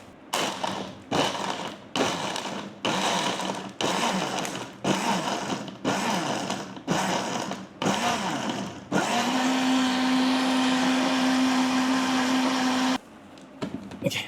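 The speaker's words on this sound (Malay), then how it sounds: "Blender ni memang padu, dia boleh guna untuk blend ais" An electric blender whirs loudly while blending a protein drink, starting in a run of short pulsed bursts, then holding one steady, high-pitched continuous blend for several seconds before cutting off abruptly.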